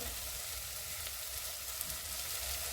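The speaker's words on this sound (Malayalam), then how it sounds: "അപ്പം തക്കാളിയൊക്കെ ഇവിടെ വഴന്ന് വന്നിട്ടുണ്ട്" Tomatoes sautéing in a pan for macaroni masala give a dense, even sizzle and hiss, close and steady, with no talk.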